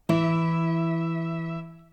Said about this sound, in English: Now, listen what happens when all the instruments play at the same time.